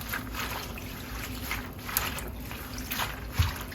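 Water runs and splashes gently as collard greens are washed in salted vinegar water, with a soft continuous trickle and a few sloshing bursts, close by and without speech.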